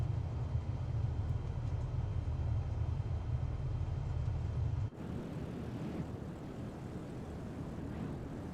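A simulated airliner taxis in Microsoft Flight Simulator 2024 with a steady engine drone, a deep low hum that cuts off abruptly partway through, and a lighter continuous whine afterward, with no talk.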